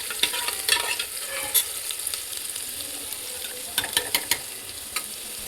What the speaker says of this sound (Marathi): लसूण टाकून घेते. लसूण टाकून घेतला. थोडासाच भाजून घेते, जास्त पण करपवायचं नाही तो.